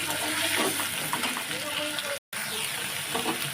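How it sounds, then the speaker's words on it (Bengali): Chopped garlic, onion paste and ginger paste sautéing in a pan while cooking soybean kosha: a steady, close hiss and sizzle of frying with a voice speaking over it, briefly cut to silence partway through. "রসুন কুচুনো পেঁয়াজ বাটা আদা বাটা এগুলো সব দিয়ে একটু ভালো করে কষিয়ে নিই"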